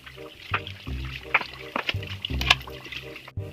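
Ingredients are rinsed in water for home cooking, with uneven splashes and pouring trickles coming in bursts, close by.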